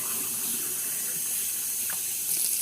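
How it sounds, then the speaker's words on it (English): Hot water running from a kitchen sink tap in a steady, continuous splashing stream, close and fairly loud, with a slight surge near the end and no talking. "So I'll get my hottest water out of my sink"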